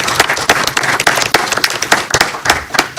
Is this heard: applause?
yes